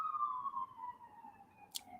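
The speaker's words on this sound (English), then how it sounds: "I'm hearing sirens in the background." A siren wails in the distance, a single steady tone gliding slowly downward, faint against a quiet background.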